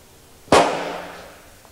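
A field cannon fires its propelling charge after a friction primer ignites it, producing a single sharp loud boom that rolls off into a decaying echo lasting about a second, with no voices.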